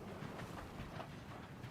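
A train moves in the video game Void Train, giving a very faint, continuous rolling rumble with soft rhythmic clatter and no voices.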